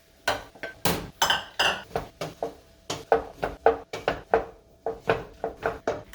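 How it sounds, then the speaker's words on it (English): Potatoes tumbling into a soup pot, producing a rapid string of close clinks and knocks against the metal pot at an irregular rhythm, fairly loud with no talk. "Get our potatoes in here."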